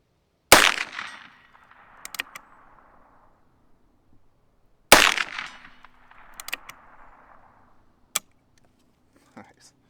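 Two sharp, loud shots from a scoped Heritage Rough Rider Rancher revolver, spaced about four seconds apart, each with a ringing decay outdoors, followed by a faint metallic ping and quiet handling noises.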